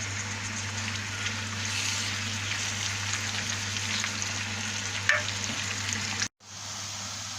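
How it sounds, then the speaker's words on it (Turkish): Kokoreç with tomato sauce sautéing in a pan at home, a steady close sizzle with faint stirring scrapes that cuts off abruptly near the end. "İçinde bir süre beraber karışıncaya kadar kavurmaya devam edeceğiz"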